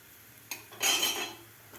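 Mango dashmi flatbread flipped on a hot pan, a brief clatter of utensil on metal followed by a short burst of sizzling as the flatbread lands, close and alone.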